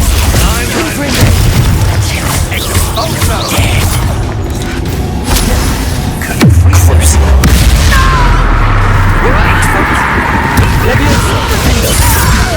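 Confringo blast spell explosions from the Hogwarts Legacy video game, booming bursts amid continuous game combat effects and music, with a sharp loud impact around the middle followed by sustained rumbling.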